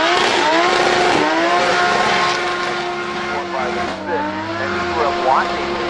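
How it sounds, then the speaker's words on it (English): Toyota Supra MK5 drift car with a 2JZ engine drifting at a motor racing festival, its engine holding a loud, steady high-revving drone with tyre noise and shifting pitch throughout, up close alongside crowd and commentary sounds. "Drift the Supra around"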